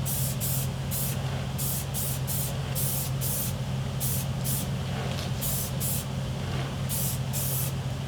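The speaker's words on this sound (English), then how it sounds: "I'm going to paint them all with a metallic spray paint." Metallic spray paint hissing from an aerosol can onto Nerf blaster parts: about a dozen short bursts in quick succession, close and steady, over a constant low hum.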